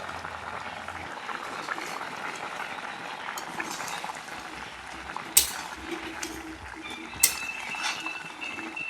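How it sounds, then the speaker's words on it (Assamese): Fish and drumstick curry bubbling in a pot on a gas stove at high flame, a steady low simmer with soft bubbling and a couple of sharp clinks from the pot, no talk. "এইবাৰ মই 20 মিনিট মান সময় উতলিবলৈ দিম"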